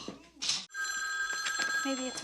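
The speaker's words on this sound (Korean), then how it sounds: "브렌다의 전화 한 통화로 크리스의 모험이 시작되려나 봅니다" A telephone rings in a movie scene, a bright trilling bell tone that sounds at moderate level with voices talking around it.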